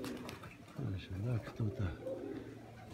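Pigeons coo close by in a few soft, rolling calls, while someone speaks briefly over them.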